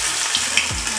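Rava cucumber appe batter spooned into a hot appe pan gives a brief, loud, steady sizzle with a couple of small clinks and a soft thud.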